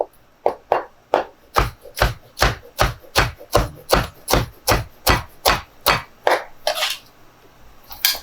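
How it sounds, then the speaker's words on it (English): A knife roughly chops hot, fresh-from-the-oven bacon on a board, about sixteen sharp, regular thuds in quick succession, close and loud, ending with a brief scraping sweep. "I'm just gonna give this bacon a nice rough chop."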